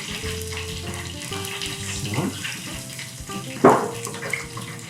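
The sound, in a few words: rinsing fingers under running tap water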